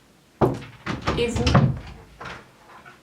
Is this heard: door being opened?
yes